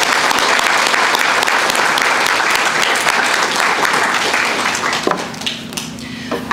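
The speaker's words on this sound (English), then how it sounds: "I would like to give them a round of applause" A crowd gives a warm round of applause at a high school art show awards event, a thick burst of clapping that fades out near the end as a voice starts speaking.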